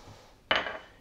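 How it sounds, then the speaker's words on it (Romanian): A small bowl clatters once as it is taken out in a kitchen while garlic alioli is being made, a single close, sharp clink that rings and fades over half a second. "Îmi scot un castronel"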